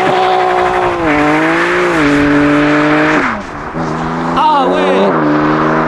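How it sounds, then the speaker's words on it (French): A BMW M4 with a modified exhaust accelerates hard, loud and close, its engine note climbing through gear changes with a brief dip and some tyre squeal, and voices can be heard faintly underneath. "C'est parti pour une accélération de la M4."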